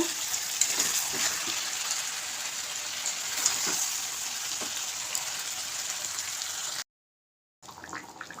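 Chicken kosha braising in oil in a pan makes a continuous crackling sizzle with occasional stirring clicks, moderately loud and even, then a brief drop to silence before the frying resumes.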